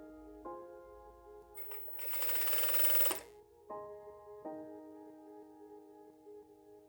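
A sewing machine stitches bias binding onto a blouse with ruffled sleeves in one quiet, steady whirring run of about a second, between faint sustained ringing tones.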